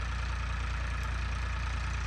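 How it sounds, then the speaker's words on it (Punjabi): Tractor engine running steadily at a low throbbing idle while pulling a laser land leveller, heard continuously and close, with no talking. "ਇਸ ਟਾਈਮ ਤਾਂ ਆਪਣਾ ਉੱਧਰ ਦੂਜੇ ਟਰੈਕਟਰ ਪਿੱਛੇ ਲੇਜ਼ਰ ਚੱਲ ਰਿਹਾ ਹੈ।"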